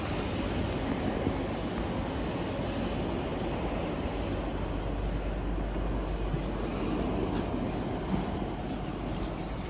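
Steady low rumble inside a Rotterdam metro train standing at a platform, with a constant hum and faint higher clatter throughout and no talking.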